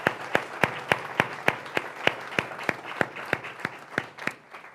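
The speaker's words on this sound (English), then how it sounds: "Would you give them a round of applause?" A single clapper or small group at a university tribute event claps in a regular, evenly spaced rhythm, each sharp clap distinct and close, about three per second, slowing slightly near the end.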